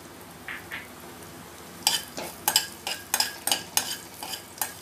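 Ginger slices and garlic cloves sauté in a little oil for a drumstick soup, heard as a quiet sizzle joined midway by a series of regular, crisp spatula scrapes and taps against the pan.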